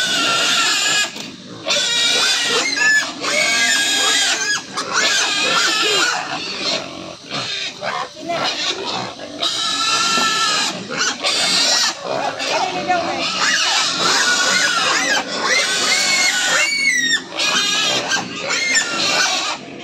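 Pigs being dewormed on a farm squeal loudly and almost continuously, with shrill overlapping bursts and short pauses, close by.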